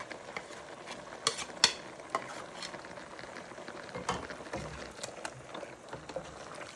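A spoon stirring ground masala into chicken sambar in a pot, with scattered scraping and clinking strokes over a faint sizzle, close and quiet, no talk.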